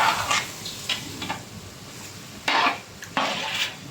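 Thick unskimmed yogurt is stirred into beef biryani masala in a pot, giving soft, irregular scraping and squelching strokes in short bursts, fairly close and otherwise quiet.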